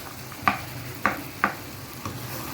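Beef masala being stirred in a pot after all the beef has gone in, four distinct scraping strokes at an unhurried rhythm over a faint background sizzle, close and moderately loud, with no talking.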